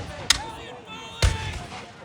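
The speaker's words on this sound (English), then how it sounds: "there's the first of the British volleys" Muskets fire in a British volley at a long-range Battle of Bunker Hill reenactment for the 250th anniversary. Two distant cracks arrive about a second apart, the second followed by a booming rumble, all faint against the open-air background.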